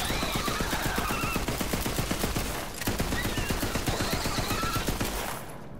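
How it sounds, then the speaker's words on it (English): Rapid gunfire from the Infinity pistol in Borderlands 3 rattles off in long continuous bursts with a brief pause midway, loud and close, with game music and effects underneath. "I love this infinity pistol"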